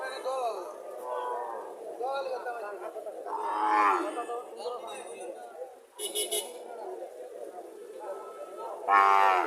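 Calves moo repeatedly amid busy chatter from many people at a cattle market in Chandimura Bazar, Barura, Comilla, with a brief honk-like burst cutting through near the end.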